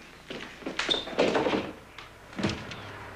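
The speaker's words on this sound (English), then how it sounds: "That's the door." Door opening and closing in a house, several close knocks and thunks with a rattle in the middle, no speech.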